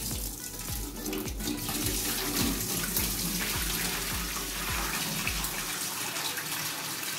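Dirty soaking water drains steadily out of a container of fermented cassava, a continuous loud rushing gush with gurgling, alone without talk.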